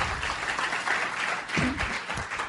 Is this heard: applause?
yes